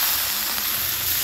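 Chicken frying in a pan with cumin powder and chicken masala while being stirred, giving a loud, continuous close sizzle with no voices.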